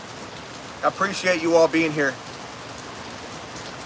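Steady rain falls throughout an outdoor live stream, a constant soft hiss beneath a brief spoken phrase in the middle.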